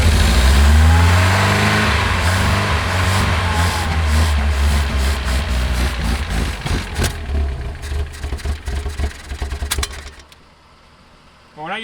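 A 2008 supercar with a fuel starvation issue turns over and runs, its engine roaring loudly and revving unevenly before settling, then cutting out near the end, with people talking nearby.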